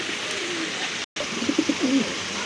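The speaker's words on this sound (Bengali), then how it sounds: "আর এক জোড়া কবুতর দেখেন বিগ সাইজের কোয়ালিটি সম্পন্ন কবুতর" A pair of large, quality grizzle pigeons coos in soft throaty bursts, brief at first, then a clearer run of repeated coos after a short dropout, close by with a faint steady hiss behind.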